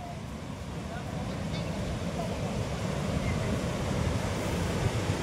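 Bhatinda waterfall in Dhanbad sends up a constant, broad rushing roar of falling water, heard from nearby with some wind buffeting the microphone and no clear breaks.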